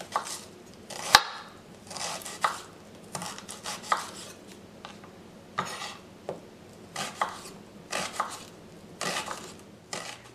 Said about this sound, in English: Cut each half into 1/4 to 1/2 inch slices, or the thickness of your preference.